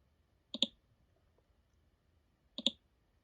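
Two crisp mouse clicks on a button in a spreadsheet, about two seconds apart, close and clear against near silence.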